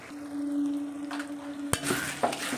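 Mutton masala with turmeric and salt being sautéed in a pan: a low steady hum at first, then a sharp scrape and a burst of sizzling and stirring near the end.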